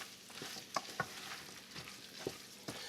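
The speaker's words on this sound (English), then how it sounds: "Stir to coat." Cooked turkey pieces being stirred in a pot of hot fat for turkey noodle soup, a faint sizzle broken by a few spoon knocks and scrapes, with no talk.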